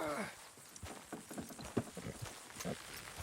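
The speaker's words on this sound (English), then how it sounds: "Good horses." Faint clip-clop of horse hooves walking at an uneven pace, close by, with low background noise and a brief animal sound at the start.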